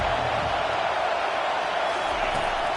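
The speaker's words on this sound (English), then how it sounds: "Listen to this crowd just shaking the girders of this place, trying to help their defense." A football stadium crowd roars without letup to help the home defense, a dense, loud and unbroken wall of noise that fills the whole stretch with no clear talk standing out.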